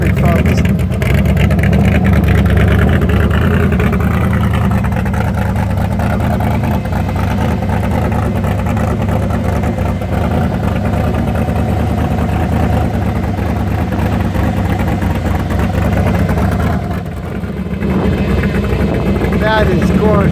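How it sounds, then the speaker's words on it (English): Show car with a Rocket V8 rolling onto a grassy field at a spring car club show, a steady low engine rumble carrying throughout, close and loud, with a brief dip near the end. "He's got the Rocket V8 in there."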